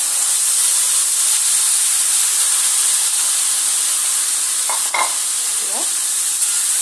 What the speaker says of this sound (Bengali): পেঁয়াজের সঙ্গে লতিটাকে খুব সুন্দরভাবে একবার নাড়াচাড়া দিয়ে নেবো